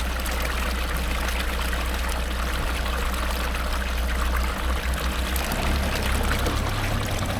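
Spring water pours continuously from a village fountain spout, a loud steady near rush and trickle that goes on throughout without pause.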